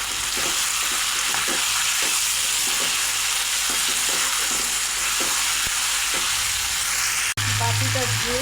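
Chicken curry meat fries loudly in hot oil with spices, a dense, close sizzle broken by rhythmic stirring scrapes before a brief pause and a sharp crackle of something added.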